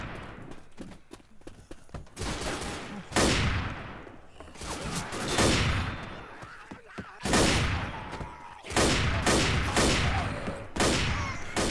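Repeated sniper rifle shots in a video game ring out in loud bursts, each sharp crack trailing into a decaying echo, spaced every second or two with no talking.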